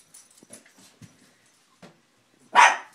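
Digger the dog, playing with a balloon, lets out a single sharp, loud bark after some soft rustles and faint whimpers.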